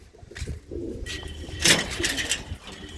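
Racing pigeons kept in a home loft cooing close by, with low throaty calls and a burst of wing and feather activity in the middle, no talk.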